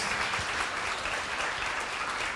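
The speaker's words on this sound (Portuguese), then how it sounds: "Vamos aplaudir Jesus?" A church congregation claps steadily and continuously, a dense wash of applause with no voices standing out.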